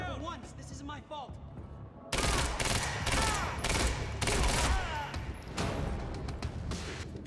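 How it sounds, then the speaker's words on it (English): Heavy, sustained gunfire bursts in the video game Quantum Break, loud and close, with rapid repeated shots breaking out after a quieter opening where voices talk, then continuing in dense volleys. "You heard the gunfire."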